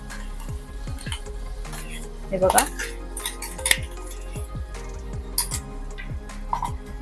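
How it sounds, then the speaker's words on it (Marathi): Ground masala paste stirred in hot oil in a pan with a utensil, giving repeated scraping and clinking strokes over a soft sizzle; a voice speaks briefly. "तर गॅस इथे मी लो ते मीडियम ठेवून घेणार आहे आणि मसाला चांगला परतून घेणार आहे।"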